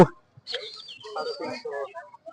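Country chickens cluck and squawk in short, uneven bursts at a busy poultry market, fairly close, with a brief voice heard at the very start.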